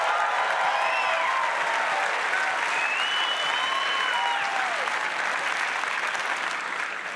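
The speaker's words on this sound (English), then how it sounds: "So I just want to give yourselves a round of applause." Sustained audience applause from a live crowd at a political rally, a dense steady wash of clapping at constant loudness throughout, with faint whistles and cheers riding on top.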